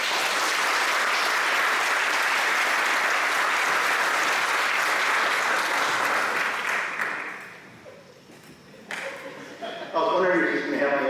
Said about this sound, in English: Please give a round of applause for Jim Navarrete.